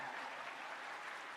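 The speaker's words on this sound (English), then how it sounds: "big applause for our moderator and also for the speaker" Applause from a conference audience for a moderator and speakers at an OIC-CA Indonesia 2023 event, a soft, even patter of clapping heard from a distance with no break.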